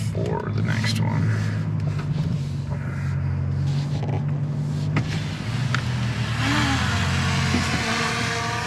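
A 2024 Toyota Land Cruiser crawls off-road under crawl control, its engine a steady low drone with slight rises in pitch, heard from inside the vehicle while people talk over it.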